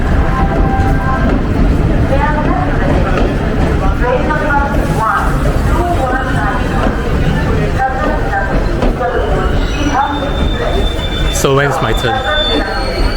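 Rumble and rattle of a train moving through a station in Delhi, India, with squealing wheels and metallic clatter, while people talk nearby.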